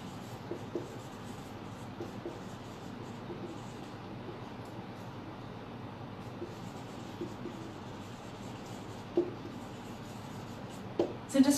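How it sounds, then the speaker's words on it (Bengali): A teacher writes out an English grammar sentence, producing soft, continuous scratchy strokes at low volume over a quiet background hum, with a few sharper taps near the end. "আমি সেন্টেন্সটা লিখি"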